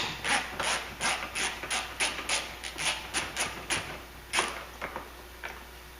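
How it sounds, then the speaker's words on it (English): Snap-on ratcheting screwdriver clicking up close during bodywork on a 2013 Chrysler Town and Country, a quick series of sharp ratchet clicks in bursts that slow and thin out toward the end. "And I got this nice snap-on screwdriver"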